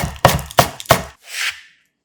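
Three crisp, evenly spaced knife chops through green onion leaves on a cutting board, loud and close, followed by a brief soft swishing scrape.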